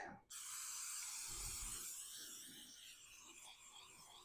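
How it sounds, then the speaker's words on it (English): A can of non-stick cooking spray releases one continuous hissing spray lasting a few seconds, close and fairly quiet, with a faint thud partway through and no voices. "We'll just go with the old non-stick cooking spray."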